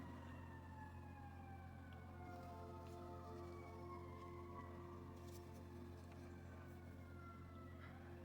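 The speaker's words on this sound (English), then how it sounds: "There's the siren again." A distant siren wails in slow, descending sweeps, faint beneath a steady low engine-like hum, continuous throughout with no talking.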